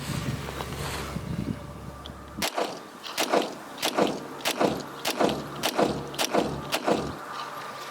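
A Smith & Wesson M&P 2.0 pistol is fired during a torture test, about eight sharp cracks in a steady rhythm roughly half a second to a second apart, following a short stretch of rumbling background.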